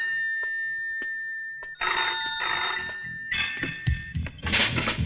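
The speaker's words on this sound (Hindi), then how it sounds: "टेलीफोन?" A telephone rings with a steady, repeated electronic bell tone, followed by thumps and clattering handling noise nearby.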